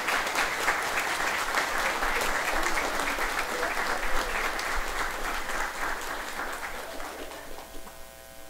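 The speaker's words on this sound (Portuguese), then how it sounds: "Vamos bater uma salva de palmas para Zuleika." Sustained applause from a sizeable church congregation, steady and dense throughout, gradually thinning toward the end.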